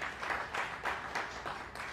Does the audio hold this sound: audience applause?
yes